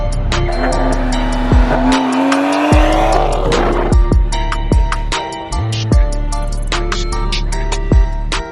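A loud car engine, a BMW N55 with a burble tune, revs and drops off, followed by a series of sharp exhaust pops and crackles in an irregular rhythm.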